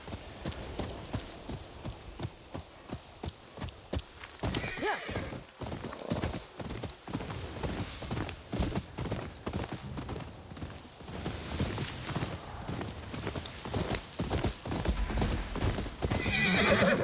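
Horse hooves clip-clop at a steady trot in the video game Ghost of Yōtei, with a whinny and rhythmic thuds over background game ambience while someone talks at moments.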